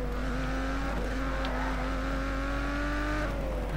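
A race car engine drones steadily in the Grid video game while it speeds through a tunnel at 100 miles an hour, holding a constant tone with a slight pitch rise and a quick shift near the end.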